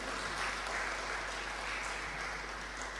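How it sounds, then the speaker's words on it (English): Faint, steady applause from an audience at a talk on multiculturalism and racism, a continuous wash of clapping heard at a distance with a low hum underneath. "Let's give him a warm round of applause."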